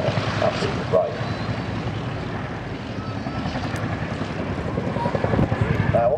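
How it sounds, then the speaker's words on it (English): A Boeing CH-47 Chinook HC2 helicopter at an airshow gives a continuous deep rotor drone with a heavy turbine roar, sustained and fairly distant, while a voice speaks over it. "So this is the Chinook HC2"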